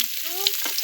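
Chopped onion going into hot hilsa fish oil tempered with black cumin seeds, a brief close sizzle and stir of frying while cooking a taro-leaf ghonto.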